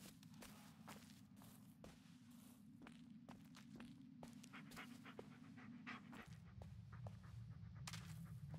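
A dog pants steadily and rhythmically in the Blair Witch video game, close and continuous, over a low droning hum and a run of footsteps crunching along.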